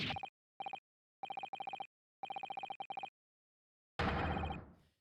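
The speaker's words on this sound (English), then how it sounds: "It's Morse code." Morse code beeping, short tonal beeps grouped in irregular dot-and-dash bursts separated by silence, followed by a loud burst of noisy sound at the end.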